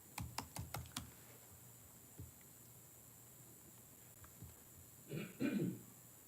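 A computer keyboard is tapped in a quick burst of crisp, close keystrokes at the start. A quiet stretch follows with a stray click or two, and someone clears their throat near the end.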